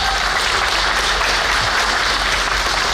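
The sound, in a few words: audience applause at festival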